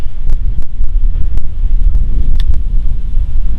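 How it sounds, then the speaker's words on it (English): Wind buffets a microphone outdoors in a pasture, giving loud, rumbling low gusts with a few sharp pops, continuous and close throughout. "Wind is picking up."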